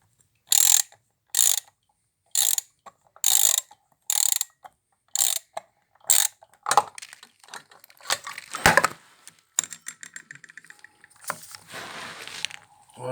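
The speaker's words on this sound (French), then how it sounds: "avec la clé à filtre et en enlevant le filtre" Filter wrench working loose the oil filter on a 2020 BMW R1250 RT during an engine oil change: seven evenly spaced loud ratcheting bursts, then irregular clicks, scrapes and rattles as the filter comes off.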